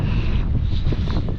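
Steady wind buffeting a microphone, a low rumbling roar lasting the whole moment with no voices.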